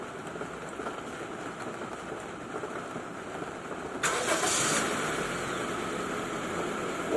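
A Honda BR-V's engine cranks and catches with a sudden loud burst about four seconds in, then settles into a steady idle over a noisy background.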